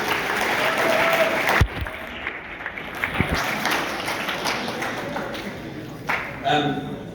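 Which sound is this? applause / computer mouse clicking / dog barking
applause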